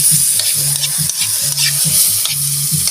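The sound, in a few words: egg frying in a pan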